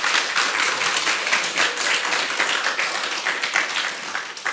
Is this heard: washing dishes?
no